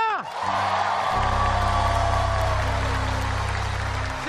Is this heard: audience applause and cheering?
yes